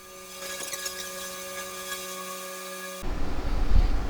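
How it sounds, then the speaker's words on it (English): An electric sander with 220-grit paper whirs steadily with a tonal hum, smoothing the sealer coat on a round-top table, then cuts off abruptly near the end as handling noise follows. "here I'm sanding out any of the imperfections in the sealer coat with 220"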